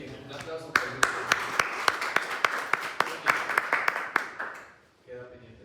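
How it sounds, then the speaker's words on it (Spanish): A small group claps for a team of presenters after a clinical case talk, a close, uneven patter of hands with a few sharp claps, all of it under talking and stopping abruptly near the end. "un aplauso para el grupo"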